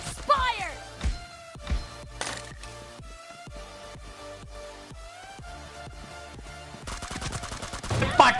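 Gunfire in the PUBG Mobile video game during a 1v1 match: scattered sharp shots and short bursts ring out over a steady game soundtrack, with a denser flurry near the end.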